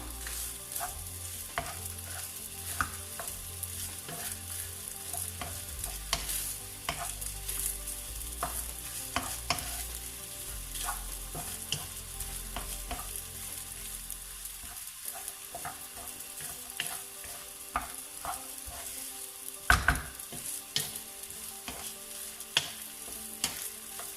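Eggs stirred quickly into vegetable rice frying in a pan, a continuous sizzle broken by brisk scraping and clinking stir strokes, close and fairly quiet, with no voices.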